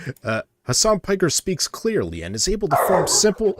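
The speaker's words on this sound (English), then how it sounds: "that was my dog." A pet dog barks and yips in the background of a talk-show broadcast, the short barks mixed in with clear, continuous speech.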